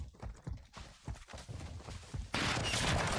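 Rapid gunfire and a rooftop sniper's shots in the Call of Duty: Modern Warfare 2 video game, a burst of clattering irregular cracks followed by a loud sustained blast of noise.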